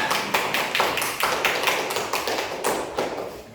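Primary school class of fifth graders clapping together in a classroom, a rhythmic, evenly spaced series of sharp claps close by, with little talk.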